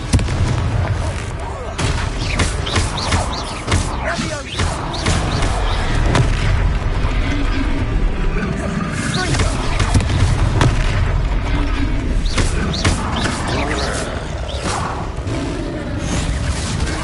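Confringo fire-spell blasts in Hogwarts Legacy hit during a troll fight: repeated heavy booms and crackling bursts over a dense, continuous din of combat, with game voices faintly mixed beneath.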